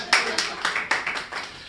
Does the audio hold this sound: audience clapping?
yes